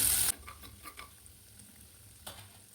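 Beef with ginger-garlic paste, ghee and salt fries in a pan and is stirred with a utensil. A loud scrape opens, followed by soft sizzling and a few light clinks and scrapes, with no voices.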